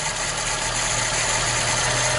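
A car engine idles with a steady, low rumbling drone and faint vibration, close and continuous.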